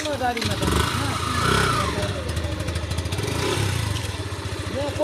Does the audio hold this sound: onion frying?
no